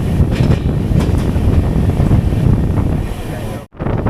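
An LHB Garib Rath passenger train runs along its line under a green signal, a loud steady rumble of rolling wheels mixed with wind buffeting, briefly cut off near the end.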